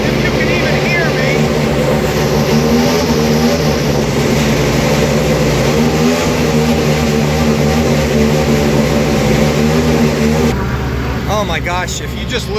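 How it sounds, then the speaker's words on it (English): Acura GTP prototype race car firing up in the Daytona 24 Hours paddock, a deafening close engine roar that holds steady with revving, then drops and changes character near the end. "that was deafening when they fired up that Acura GTP"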